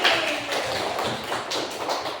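Schoolchildren in an Indonesian classroom clap their hands together again, a quieter run of steady, even claps with no talking.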